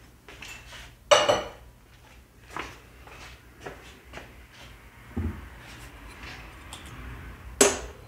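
Fired pottery bowls, including a red clay pinch pot, are lifted from a kiln and set down in a quiet room. Scattered ceramic clinks and knocks ring out, the clearest near the first second and again near the end.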